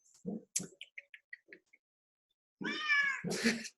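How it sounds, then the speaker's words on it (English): An indoor house cat meows close by: a few short chirps and light ticks at first, then after a pause two loud, drawn-out meows in quick succession. "Meanwhile, my cat's going to meow."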